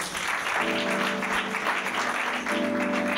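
A church congregation applauds and cheers for Jesus in a loud, steady burst of clapping, with a sustained sung or shouted tone rising through the middle of it.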